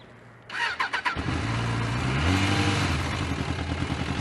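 A 1993 Suzuki Katana 750 (GSX750FP) motorcycle does a cold start on full choke: a brief burst of starter cranking, then the engine catches and settles into a steady, loud, slightly raised idle.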